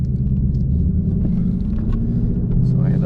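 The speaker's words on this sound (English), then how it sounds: "The car sounds so good, and it feels good having a V8." A Ford Mustang GT V8 with its exhaust valves open on track mode rumbles steadily while driving on dry roads, a loud deep continuous engine drone that swells slightly near the end, with no talk over it.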